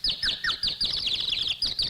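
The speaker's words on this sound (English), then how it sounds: "That woodpecker, he can sing." Cartoon woodpecker singing in a castle, a rapid run of high, bright chirps and warbles lasting under two seconds, close and clear.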